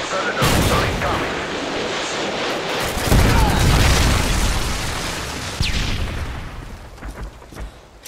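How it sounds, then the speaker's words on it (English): Predator missile strikes in a Call of Duty match hit with loud booming explosions, a sustained rumbling burst in the middle followed by sharper cracks and scattered pops of gunfire as the blasts fade. "Friendly Predator missile incoming."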